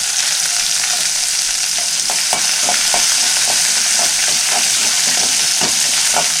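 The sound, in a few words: green chilies frying in a pan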